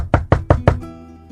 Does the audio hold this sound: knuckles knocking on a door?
yes